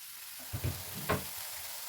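Tomato frying in a pan, a faint sizzle with a couple of brief stirring scrapes near the middle, otherwise quiet.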